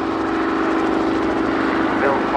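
A Bristol 171 Sycamore helicopter runs at an airshow, a steady loud engine and rotor drone with a constant low hum, holding even for the whole stretch.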